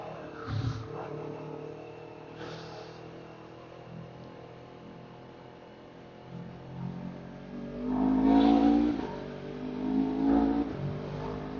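A Honda CBR 250RR twin-cylinder sport bike with an MBR Tech quick shifter module revs and accelerates, its engine note rising in surges with clutchless upshifts, loudest near the end of the run.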